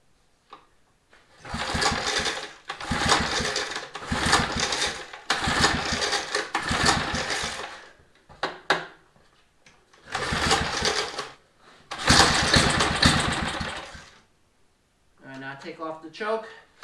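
A small engine with the choke on cranks over and over in a series of several-second pull bursts, sputtering and firing briefly without catching, loud and close, with a voice heard near the end.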